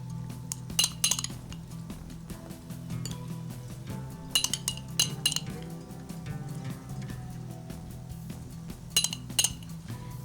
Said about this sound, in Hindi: बाकी की जो सॉस है हमारे पास वो हम इस शॉर्ट ग्लास में डालेंगे